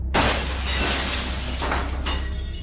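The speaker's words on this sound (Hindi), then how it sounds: "अचानक से उनको बड़ी तेज कांच टूटने की आवाज़ आई" Loud glass shattering in a Hindi romantic horror story: a sharp crash that bursts into a long, bright spray of breaking shards, with a second crunch near the end, filling the whole clip without any voices.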